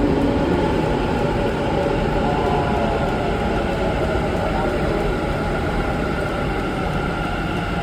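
Bangalore metro train in motion, heard from inside the car as a steady, loud rumble of wheels and rail noise throughout, with a faint murmur of voices mixed in.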